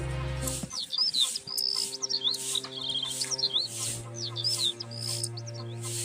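Small birds chirp and tweet in a repeated, lively pattern of short calls, fairly close, over a steady low hum with no talking.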